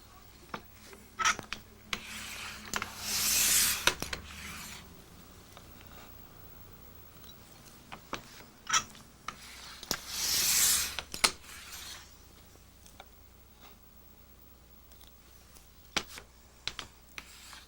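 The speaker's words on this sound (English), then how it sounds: "And then we want to cut 3/8 inch strips." A blade cutting 3/8 inch mat board strips for French matting, with two longer scraping slices separated by scattered sharp clicks and taps of handling, fairly quiet and close.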